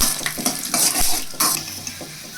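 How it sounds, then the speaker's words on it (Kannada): Peanuts and cashews fry in hot oil in a pan, a crackling sizzle broken by scraping stirs and light metallic clinks of a spoon against the pan, close and moderately quiet with no talking. "ಎಣ್ಣೆ ಕಾಯ್ದ ನಂತರ ಕಡಲೆ ಬೀಜನ ಗೋಡಂಬಿ ಹಾಕಿ ಫ್ರೈ ಮಾಡ್ಕೊತಾ ಇದ್ದೀನಿ"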